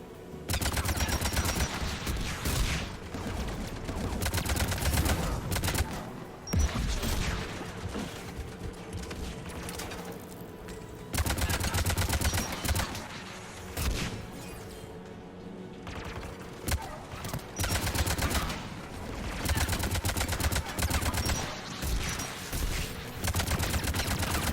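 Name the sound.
gunfire from the guns protecting the tower in video game Mass Effect 3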